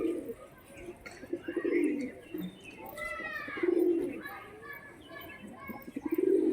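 Pigeons cooing at a pigeon sale, several soft rolling coos and chirps close by, repeating irregularly, with people talking over and between them.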